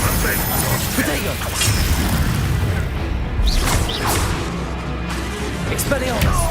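Incendio fire spell cast in the video game Hogwarts Legacy, a loud whooshing burst of flame with mechanical clanks and crashes over dense game noise, a voice speaking over it.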